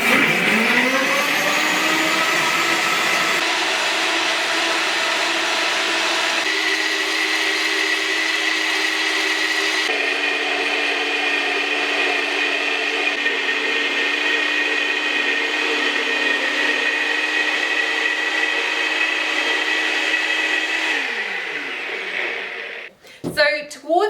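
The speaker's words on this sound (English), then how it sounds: "So towards the end, you may need to stop your blender and give it a little stir" A blender whirs continuously while blending vegan chipotle aioli, a loud steady motor whine with several shifts in pitch and load, then it spins down and stops near the end.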